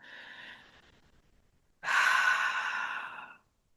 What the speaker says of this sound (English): I stop and I take a deep breath